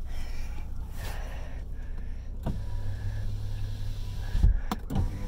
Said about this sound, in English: Rolling up the windows.